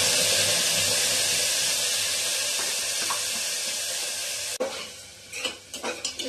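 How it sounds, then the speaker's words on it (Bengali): Tomato paste poured into a hot pan on a lowered flame: a loud continuous sizzle that suddenly drops, then gives way to uneven scraping and stirring strokes with wet sputters, no talking. "এবারে টমেটো বাটাটা দিয়ে দেবো।"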